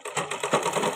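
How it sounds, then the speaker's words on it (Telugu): Sewing machine running fast along the edges of a baby frock, a close, steady, rapid mechanical whirr with rhythmic stitching pulses throughout. "ఇలా చివర్లు ఇలా స్టిచ్ చేసుకుంటూ రావాలి."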